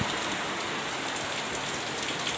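Heavy rain pours steadily outside a window, a dense continuous hiss of water with no break, fairly loud and close, with no voices.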